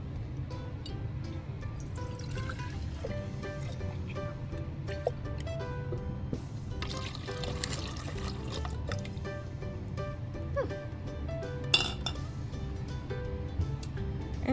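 Pond water, including a murky sample from the middle of a pond, is poured into a glass tank, giving a steady liquid filling and dripping sound with a brief splash near the end and no talking.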